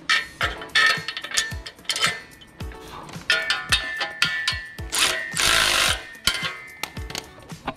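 Bunk bracket mounts being tightened down during assembly of a JY Performance PWC dock: a rapid run of sharp metallic clanks and ratcheting clicks, close and fairly loud, with brief pauses between bursts and no talk.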